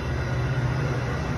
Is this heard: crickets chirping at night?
no